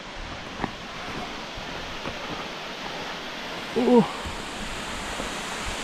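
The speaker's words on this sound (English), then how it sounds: "we have made it to the Fairy Falls." Fairy Falls in Yellowstone, a tall drop with little water, makes a soft, steady rushing hiss heard from a distance, briefly interrupted by a person's short exclamation.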